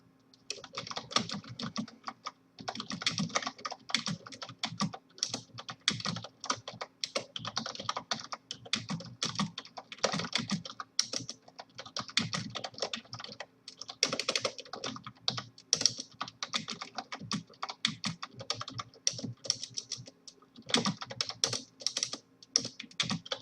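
Fingers type on a computer keyboard in quick, irregular runs of clicking keys with brief pauses, close and fairly quiet, no voices.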